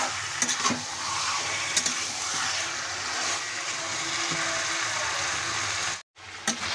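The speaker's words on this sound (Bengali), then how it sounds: "চিকেনটা কিন্তু ভালোভাবে কষিয়ে নিতে হবে" Chicken being sautéed in a pan for a village-style curry, a steady close sizzle broken by occasional stirring clacks, with a brief silent cut near the end before the frying resumes.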